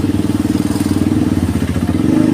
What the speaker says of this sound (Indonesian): katanya knalpotnya knalpot brong, padahal yang nggak terlalu keras bunyinya